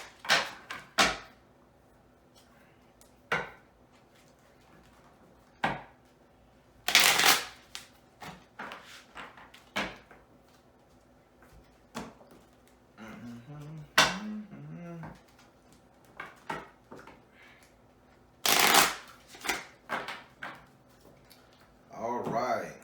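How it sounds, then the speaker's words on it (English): Tarot cards are shuffled by hand in several short, crisp riffle bursts spaced apart, close and clear, with someone speaking between them. "Let me get a cards, a couple shuffles for you"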